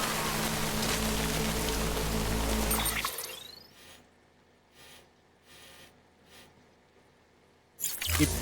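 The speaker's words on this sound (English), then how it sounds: "Good thing it was raining." Steady broadband rain from the video game Death Stranding fills the first three seconds, then drops away to a quiet stretch with a few faint bursts before a brief loud return at the end.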